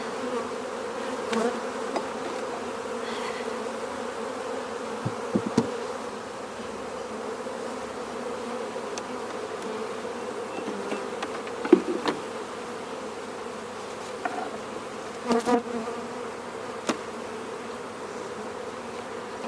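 Honeybees buzzing steadily in an open hive during a queen release, a continuous close drone with occasional louder passes and small knocks, no talk.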